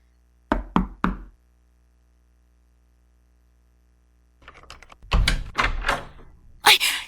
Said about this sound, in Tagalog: Kumatok ka na.